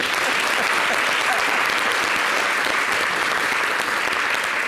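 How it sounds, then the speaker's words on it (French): Studio audience at a television talk show applauds in a dense, continuous roar of clapping, loud and even from start to finish with no talk over it. "Merci d'applaudir."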